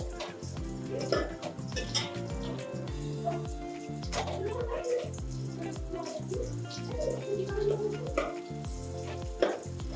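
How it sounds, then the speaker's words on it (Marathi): Sliced onions fry until golden in a pot of oil with bay leaf, cloves and cinnamon for a spicy restaurant-style chicken biryani, giving a steady sizzle that runs under rhythmic background music. "कांदा आपला आता चांगला भाजला या म्हणजे गोल्डन कलरवर वर झालाय"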